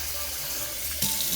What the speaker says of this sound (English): Gonna add some water to that.